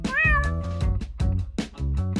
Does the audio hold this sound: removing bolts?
no